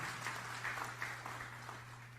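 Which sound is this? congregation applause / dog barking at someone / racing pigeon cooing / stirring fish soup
congregation applause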